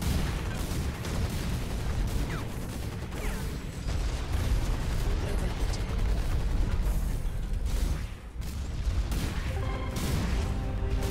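Mech weapons fire in the video game Hawken as dense, rapid mechanical bursts and booming shots. The barrage runs continuously and loudly throughout, over heavy combat noise with no clear talk.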